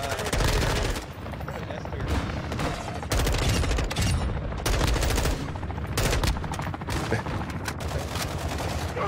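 Heavy gunfire in the Warzone 2.0 video game, dense rapid automatic bursts and fusillades that continue almost without pause, loud and close, with voices heard amid the shooting.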